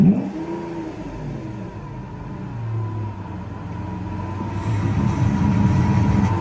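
A Lamborghini Aventador LP V12 engine runs with a steady low rumble and a rising whine, its revs climbing gradually toward the end, close and loud with no voices.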